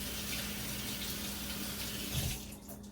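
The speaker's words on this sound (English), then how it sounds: "let me turn around and wash my hands real quick" Steady running water from a kitchen tap as hands are washed under it, a loud continuous close splash and hiss that shifts briefly near the end as the flow is disturbed.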